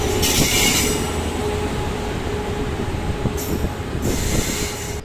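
The Vivek Express rumbles loudly and steadily into platform 3 at close range, with bursts of high metallic wheel squeal rising over the heavy rolling noise.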